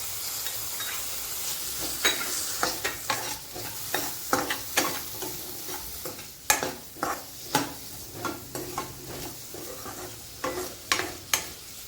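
Potatoes being fried for a dry capsicum and potato sabzi crackle steadily in a pan, with repeated scraping and knocking strokes of a spatula at an uneven rhythm throughout, close and moderately loud.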